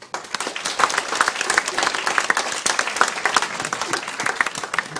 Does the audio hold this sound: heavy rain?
no